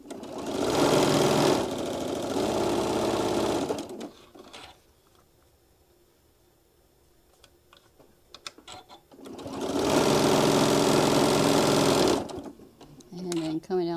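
A sewing machine runs in two long, loud, steady bursts while stitching the seams of pieced table runner blocks, with a quiet pause between them filled by faint handling noises.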